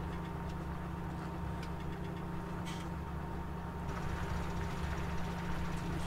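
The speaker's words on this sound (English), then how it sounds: "It's an 8030 model with a bigger engine." A John Deere 8030 model tractor with a bigger engine runs in a farming video game, giving a steady, droning mid-pitched engine hum with a slight knocking vibration and no talk over it.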